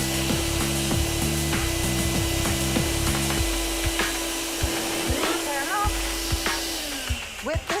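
A household vacuum cleaner sucks the air out of a vacuum storage bag with a loud, steady roar, accompanied by rustling and rubbing plastic and some chopped, rhythmic noise early on as the hose is fitted.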